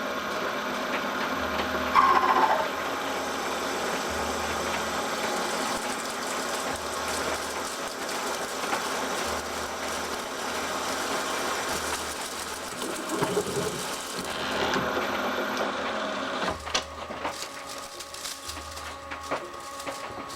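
A milling machine cuts an angle plate with a continuous mechanical whir and grinding drone, soft rhythmic low thumps and occasional rattles, steady at moderate level throughout with no speech.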